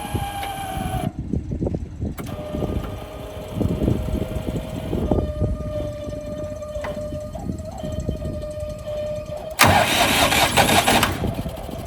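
A Skaut XT244 mini tractor engine, making strange noises, cranks and catches, settling into a steady mid-pitched running drone with a faint whine, then a sudden louder burst near the end.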